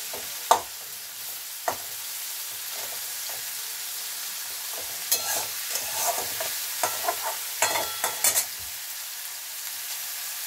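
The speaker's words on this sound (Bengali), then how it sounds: "মশলাটা ভাজাতে তেল ছাড়া হয়ে গেছে" Spiced tomato masala for shol fish kalia fries in oil, giving a soft continuous sizzle under repeated scraping and clattering of a spoon stirring the pan, with sharp knocks at the start and a busy burst of stirring later.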